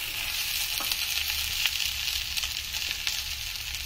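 Cauliflower stalk curry sizzles steadily in a pan on low gas while a ladle stirs it, giving a continuous close frying hiss with faint scraping through the few seconds.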